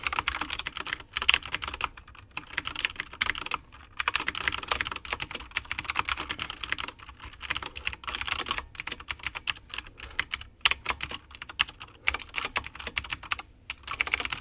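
Continuous typing on a computer keyboard during programming work, with rapid, irregular clusters of crisp key clicks and brief pauses, close and fairly quiet, no talking.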